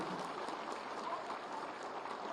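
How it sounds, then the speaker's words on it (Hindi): An audience at a Samsung Innovation Campus convocation at Lucknow University applauds to welcome guests: a faint, steady wash of distant clapping from a large hall, continuous and even. "जोरदार तालियों से सभी का स्वागत और अभिनंदन"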